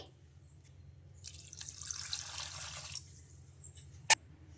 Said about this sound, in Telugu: ఇప్పుడు ఇందులోకి వాటర్ అయితే వేసుకోవాలి